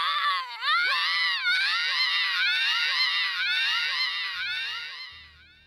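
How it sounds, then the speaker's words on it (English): Skull Kid from Majora's Mask lets out a shrill, bestial scream, a loud wavering wail pulsing in repeated surges for several seconds before trailing off, alone without talk. "It was a horrible, bestial screech that pierced the sky"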